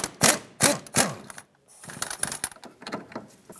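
A ratchet with a 15 mm socket works loose a strut bolt on a 1997-2003 Lexus ES300 in a garage, giving three loud separate bursts and then a longer run of quick clicking pawl strokes.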